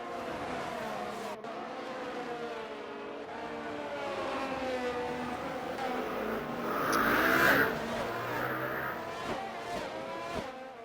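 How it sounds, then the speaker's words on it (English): A dirt bike with no exhaust passes by outside a house, its engine note rising and swelling, then fading away over about eleven seconds at moderate distance. "you heard that dirty dirt bike driving past my house"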